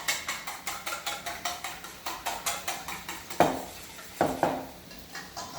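Two eggs beaten briskly in a bowl with a utensil, a steady rhythmic clinking of about three strokes per second, close and fairly quiet, with a few sharper taps against the rim.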